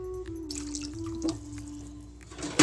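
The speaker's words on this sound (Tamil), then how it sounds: "தண்ணி வந்து ஃபுல்லாக ஊற்றிட்டேன்" Water poured into a pressure cooker for cooking rice in a home kitchen, heard as soft trickles and drips over a steady low hum, with a splashy burst at the end.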